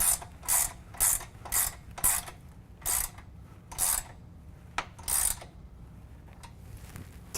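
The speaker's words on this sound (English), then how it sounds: "we go ahead and tighten down the bolt up at the rocker panel. Also with a 13 millimeter." Steady rhythmic bursts of a ratchet wrench tightening a 13 mm bolt at the rocker panel of a Ford Super Duty truck while hoop steps are installed, loud and close with short pauses between strokes.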